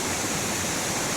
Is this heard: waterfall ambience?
yes